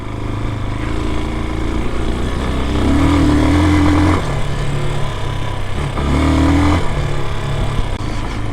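A 2022 Peacesports Brozz Recon 250 pushrod dual-sport motorcycle engine drones steadily while riding on a trail, loud and close, with two swells in engine pitch as the throttle opens, and no talking.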